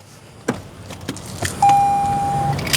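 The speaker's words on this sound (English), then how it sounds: "I just start the car and I let it run for about 5 minutes." An Audi engine starts up after an engine-bay rinse: a few sharp clicks, then a sudden steady running roar with a sustained tone over it, close by with no talking.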